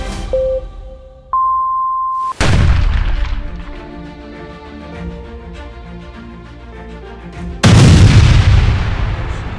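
Laser-guided bombs detonating in a night air strike: after a couple of electronic tones, a loud booming explosion erupts and rumbles on, followed by a second heavy blast near the end.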